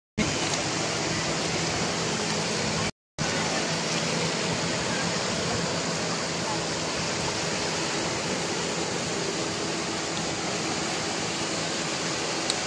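Strong sea waves crash and roar steadily on the beach at Alibag, a loud, continuous broadband wash with one brief dropout near the start.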